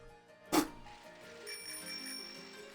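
A bell in a Pokémon video game rings once with a bright, sharp strike, then a faint lingering shimmer under quiet background game music.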